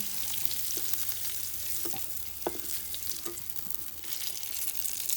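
Crushed ginger, cinnamon, cloves and cardamom frying in oil, a steady close sizzle with scattered pops and a few clinks of a spatula against the pan.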